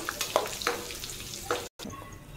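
Coriander leaves frying in a pan on low flame for poha chivda, a steady close sizzle with a few crackling pops and brief stirring scrapes, broken by a short dropout near the end.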